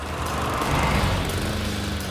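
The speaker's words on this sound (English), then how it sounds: "the lawnmower." A small backyard lawn mower runs steadily nearby, its engine droning loud and constant without pause.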